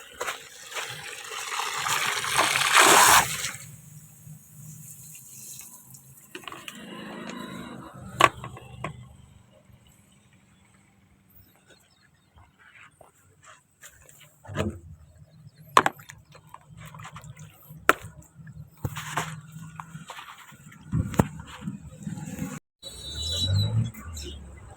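Tap water runs hard into a container being filled, a loud steady rush for the first few seconds, then fades to quieter handling clatter and scattered knocks.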